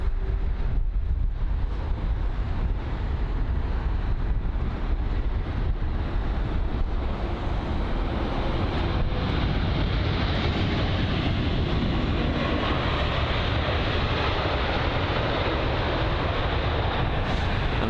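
A Biman Bangladesh Boeing 787 Dreamliner arriving at London Heathrow makes a broad, roaring wash of engine and wind noise, loud and continuous across the whole stretch with no voices.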